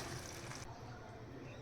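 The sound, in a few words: pouring water into a cooking pot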